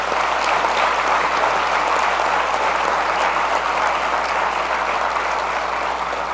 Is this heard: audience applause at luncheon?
yes